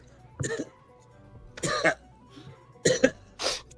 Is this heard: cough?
yes